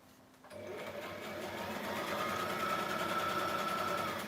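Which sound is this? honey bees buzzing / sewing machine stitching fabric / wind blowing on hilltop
sewing machine stitching fabric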